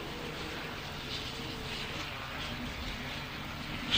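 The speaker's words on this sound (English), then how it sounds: "squirting that throttle on out of that turn, and here they come." Grasstrack racing motorcycles accelerating hard out of a turn at a 2003 meeting, a steady distant engine roar that swells slightly toward the end.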